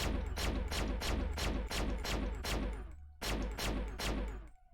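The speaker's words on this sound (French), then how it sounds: "C'est le flingue le plus puissant du monde." A powerful gun in the video game Lunark fires repeatedly in a steady rhythm of loud, punchy shots, pauses briefly, then resumes with a few more blasts.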